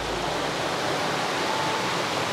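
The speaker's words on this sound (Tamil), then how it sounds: "ஸோ இந்த தண்ணியோட சவுண்டில் தான் நைட்டு ஃபுல்லும் நம்ம தூங்கணும்." Flowing water beside a resort bungalow in Thekkady rushes in a constant, loud, broadband wash, like a close stream or small cascade, continuous and without voices.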